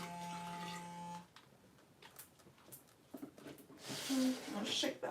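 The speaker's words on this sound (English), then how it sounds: "Rinsing the brush off first, and I like to keep it on because it helps get the remaining soap out of the bristles" A tap runs while a brush is rinsed of soap at a bathroom sink during a face-mask routine, a soft broadband water hiss that swells louder toward the end, with a brief tone early on.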